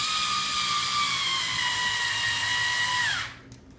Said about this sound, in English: You will take your Phillips head screwdriver and just use it to finish tightening the screws down until they make a snug fit.